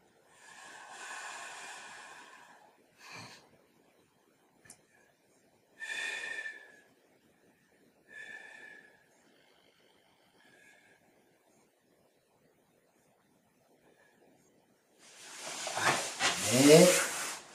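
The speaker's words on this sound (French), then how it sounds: "Soufflez bien." Forceful exhaling during a karate stretching routine, a few breathy hissing outbreaths spaced apart in a quiet room, ending with a longer, louder rushing exhale.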